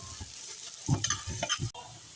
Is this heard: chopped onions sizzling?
yes